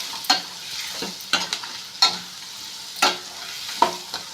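Bitter gourd, turmeric added, stirred and fried in a pan: a soft continuous sizzle broken by about eight sharp scraping strokes of a spatula, close and without speech.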